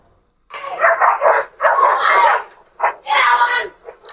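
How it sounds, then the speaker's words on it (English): Dogs attacking a person bark and yelp in a loud, agitated flurry, several close overlapping bursts over a few seconds. "she's mauled by a pack of dogs"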